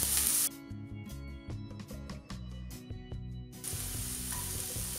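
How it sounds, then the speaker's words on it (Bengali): Minced meat and onion sizzle in a frying pan, with a steady hiss broken by repeated scraping stirs before a louder, even frying sound takes over. "কিমাটা আমি অল্প ভাজবো, পেঁয়াজটা কাঁচা পেঁয়াজ দিব না, এই জন্য হালকা করে ভেজে নিচ্ছি।"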